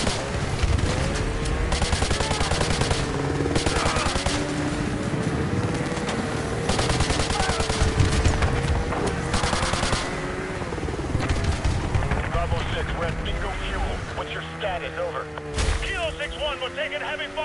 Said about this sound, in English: taking heavy fire, but we're almost there